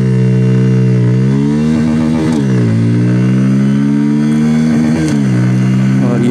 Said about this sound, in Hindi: तो चलिए फ्रेंड्स एक्सेलरेशन टेस्ट स्टार्ट करते हैं।